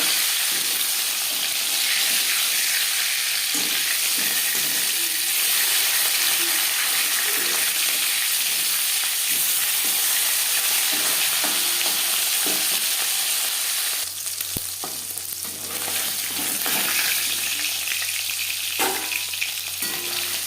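Katla fish pieces fry in refined oil with a steady, dense sizzle that fills the whole stretch, close up, with faint stirring and scraping sounds now and then and no talk.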